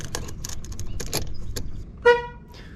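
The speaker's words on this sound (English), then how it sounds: "Right, so the horn works." A Mk6 Ford Escort van's horn gives one short, loud toot near the end, following a stretch of muffled clunks and handling noises close by.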